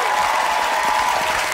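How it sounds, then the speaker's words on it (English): A studio audience at a televised talent show semi-final applauds steadily, a dense, loud wash of clapping throughout with no pauses. "Keep the applause going for our losing semi-finalist"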